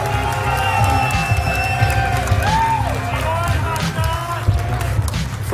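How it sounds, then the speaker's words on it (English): Crowd cheering and clapping at a Clash Royale tournament semi-final in Helsinki, a continuous dense roar of audience noise with music playing underneath. "One more time, ladies and gentlemen. Round of applause."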